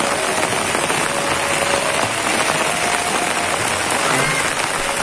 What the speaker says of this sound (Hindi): और भी तो आ रही है बारिश बहुत तेज